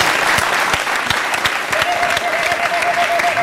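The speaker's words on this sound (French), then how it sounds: "On va l'applaudir." Crowd applause for a film producer in a studio, steady and dense with many hands clapping throughout, loud and close.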